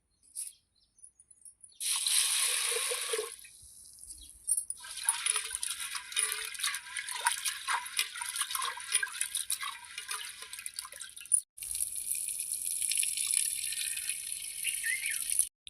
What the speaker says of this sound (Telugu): శనగపప్పు ఉడకబెట్టుకోవాలి. కంచుట్లో పోసి మంచిగా కడుక్కోవాలి.